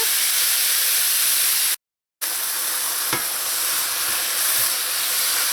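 Minced meat sizzles steadily as it browns in a hot oiled pot, a dense close frying hiss with a few light stirring clicks and a brief dropout partway through.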